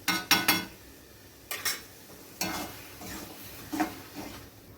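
Palak keema stirred with spices in a pan, spoon clinks and scrapes against metal in short bursts with pauses between, over a faint sizzle, close and without talk.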